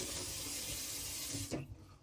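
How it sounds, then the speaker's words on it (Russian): A kitchen tap runs at strong pressure, a steady loud rush of water into the sink that cuts off abruptly near the end, leaving a faint splash. "По нашему обыкновению проверим напор воды."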